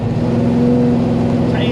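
A loud car engine fitted with Holley Dominator carburetors and full mufflers idles with a deep, rough, lumpy rumble, steady and close throughout the short stretch, with a voice talking over it.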